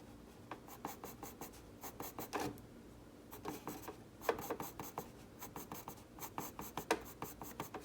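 A pencil scratches across paper in rapid crosshatching strokes. The close, soft rasping comes in short bursts separated by brief pauses.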